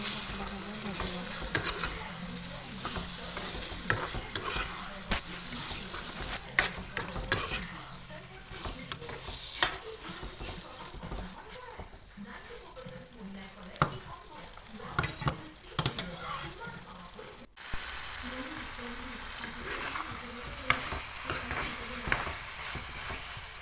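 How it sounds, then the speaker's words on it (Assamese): Broiler chicken liver meat frying and being stirred in a pan, a steady sizzle with scattered clinks of a utensil against the pan and pan knocks throughout, close and continuous. "আৰু অকণমান সময় ভাজি ল'ম।"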